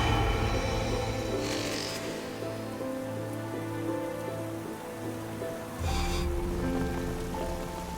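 Steady rain lashing a crumbling mountain cliff ledge in bad weather, a continuous dense hiss with low rumbling undertones and occasional heavier gusts, no voices.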